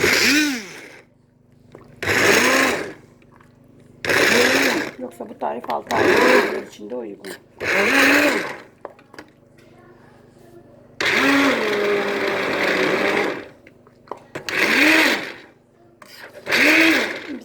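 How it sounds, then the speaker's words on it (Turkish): A blender whirs in repeated loud bursts of a few seconds each, blending a bell pepper and purslane soup, separated by short pauses, while someone talks between and over the runs. "Blender'dan geçeceğim."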